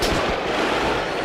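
Gunfire in a GTA 5 police-patrol shootout, a dense, continuous crackle of shots at close range that stays loud and steady from start to finish, with no talk over it.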